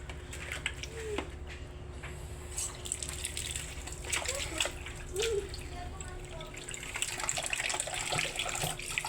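Purple yam is washed under a running tap, a steady close rush of water with splashes and clatter as it is handled, and quiet voices faintly in the background.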